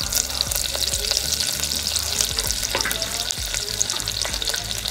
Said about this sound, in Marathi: एक हिरवी मिरची बारीक कापून घेतलेली, 8-10 कढीपत्त्याची पाने थोडे तुकडे करून घालायचे हाताने याप्रमाणे